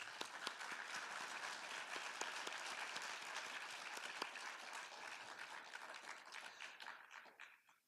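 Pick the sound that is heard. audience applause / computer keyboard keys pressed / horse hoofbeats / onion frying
audience applause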